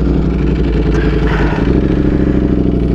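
A motorcycle engine drones loud and close while riding, a steady mid-pitched throb with rhythmic pulsing that deepens slightly as it revs, with wind rumble underneath.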